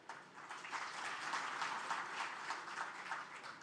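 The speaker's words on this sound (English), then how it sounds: "I request that we give a round of applause to MasterCard Foundation" An audience at a career fair at the Islamic University in Uganda breaks into applause, a dense, steady patter of many hands clapping at a moderate distance, sustained and faint throughout.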